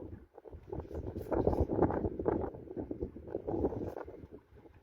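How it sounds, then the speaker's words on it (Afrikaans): Wind blowing outdoors on a rooftop, gusting and buffeting against the microphone in uneven rumbling surges, loud and close with no speech. "Ja, die wind"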